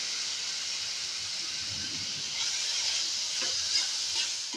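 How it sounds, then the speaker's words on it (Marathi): Onion and tomato frying in a pan for paneer bhurji, giving a steady close hiss and sizzle throughout, with faint stirring clinks toward the end. "आता ह्याच्यात हा टोमॅटो घालून घेतला आहे।"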